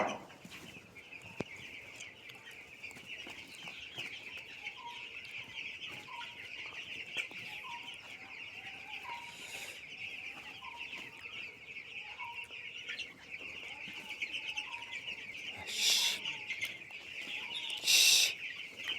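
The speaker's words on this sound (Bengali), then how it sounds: "আমি আমার মুরগি খামারে এলাম। আমার মুরগি আপনারা দেখেন।" Young chickens about twelve days old cluck and peep in short repeated calls throughout a poultry farm shed, over a steady hiss of fans or ambient noise, with a couple of louder bursts near the end.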